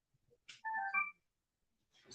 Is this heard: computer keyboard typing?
no